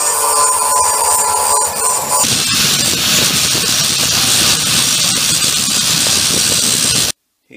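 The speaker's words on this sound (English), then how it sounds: "Once you finish grinding with your grinding wheel, just rough finish it." A grinding wheel working a welded metal frame on a vintage mini bike hardtail conversion, a loud harsh hiss and whine running continuously, changing tone partway through, then stopping abruptly near the end.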